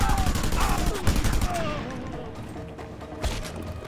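Sniper gunfire in the video game Just Cause 2: sharp bursts and cracks over a dense, steady game soundscape, with a louder shot near the start and another late hit, all fairly close and loud.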